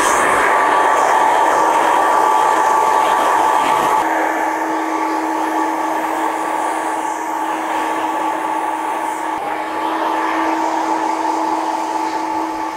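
A hair dryer blows a steady, loud whine with a low hum while drying long red hair during a haircut, running alone without talk.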